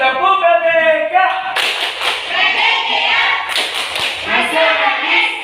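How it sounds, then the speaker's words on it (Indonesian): Students in a classroom do the tepuk merdeka clapping chant, bursts of rhythmic group clapping mixed with chanted voices, loud and close, with speech running throughout. "Kita tepuk lagi, tepuk merdeka"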